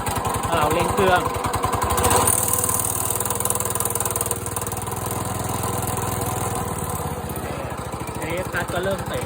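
A small RC lawn mower engine revs up before its pulley clutch engages the cutter and holds a loud, steady buzzing drone, easing slightly lower in pitch partway through.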